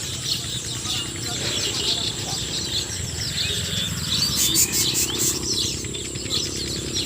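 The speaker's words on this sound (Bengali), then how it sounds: "পাখিটি দেখছেন কেমন ডাকছে ডাক শুনতে খুব ভালো লাগছে আমার কাছে" Birds chirp and call repeatedly in the distance over a low outdoor rumble, with a brief burst of sharper tweets later on.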